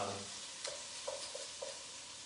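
Fennel and onions sizzle softly in a pan with a steady frying hiss, broken by a few light scrapes and stirs of a utensil; quiet and close, with no talking.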